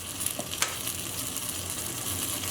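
Mussels being stirred in a pot while cooking, a soft steady sizzle with a few light clinks of a utensil against the pot, fairly quiet and with no talking.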